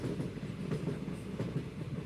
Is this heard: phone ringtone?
no